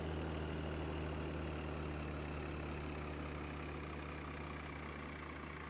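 A tractor with a seed drill idles in a farming video game, giving a steady, even low engine drone with a constant hum that runs unbroken throughout, with no one talking.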